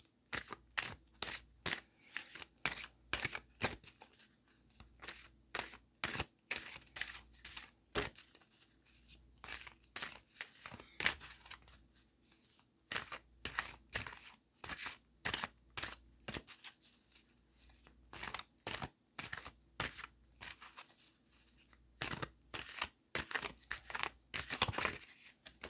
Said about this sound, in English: You heard me shuffle and this came up with a different card.